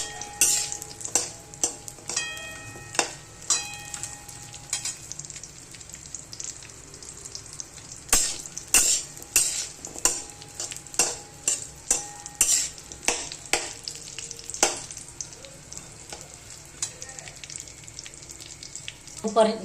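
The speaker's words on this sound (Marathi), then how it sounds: "चांगलं भाजून घ्यायचं हे तेलामध्ये." Dates are roasted in oil in a pan for dry fruit laddu, with quiet sizzling under repeated sharp scraping and clinking of a spatula stirring against the pan, fairly close and without talk.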